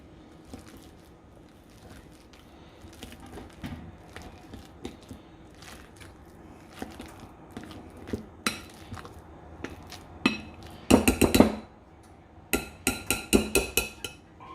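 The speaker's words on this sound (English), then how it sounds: "we just got a potato masher here" A potato masher working bananas in a bowl, irregular soft squishing thuds and clinks against the bowl, quiet at first then growing into quicker, louder strokes near the end.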